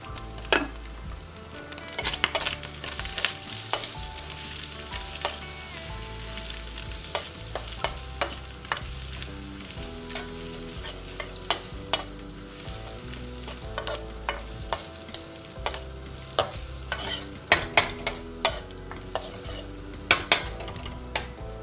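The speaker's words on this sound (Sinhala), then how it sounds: "ඔන්න දැන් මම එකතු කර ගන්නවා මේ කැරට් ටික. කැරට් ටිකයි අපි බෙල් පෙපේ ටිකයි එකතු කරගමු." Carrots and bell pepper are stir-fried in a pan for fried rice, giving a steady sizzle broken by frequent sharp scrapes and clinks of a utensil against the pan, close and with no talk.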